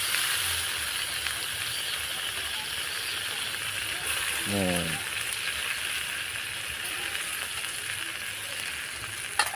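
A pot of thuthuvalai rasam boiling on the heat gives a steady, soft hiss and sizzle, continuous throughout, with a brief voice heard partway through.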